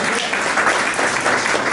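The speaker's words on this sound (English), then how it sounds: "Can I get another sister clap?" An audience at a celebration in Albany claps together in a dense, steady burst of applause, loud and continuous throughout with no pause.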